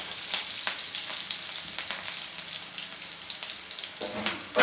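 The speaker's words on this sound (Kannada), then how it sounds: "ಈರುಳ್ಳಿ ಫ್ರೈ ಆಗಿದೆ" Chopped onions fry in a pan with a steady, close sizzle of hissing crackle and a few sharper pops, running alone with no voices.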